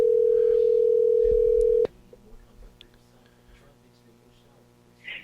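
A telephone ringback tone plays while a call waits for an answer: one steady, loud hum lasts almost two seconds, then cuts off into a quiet line with faint background murmur.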